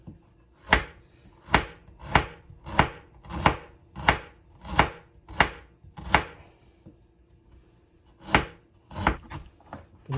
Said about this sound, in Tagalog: pino ko yung luya